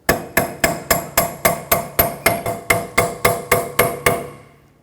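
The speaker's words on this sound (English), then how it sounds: "take a punch and a hammer and just tap the snap ring down" A hammer strikes a punch in a steady run of about fifteen sharp metallic taps, seating the snap ring of a front wheel bearing on a 2006-2010 Hyundai Sonata. The last tap rings out.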